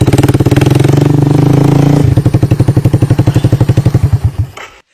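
Yamaha three-wheeler engine fitted with a cheap Chinese carburetor, running loud and close with a fast, even put-put that slows into distinct thumps before cutting off.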